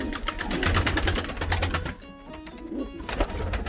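Soft low cooing of a ten-year-old Sivas pigeon, a few gentle repeated calls amid fluttering and rustling noise nearby.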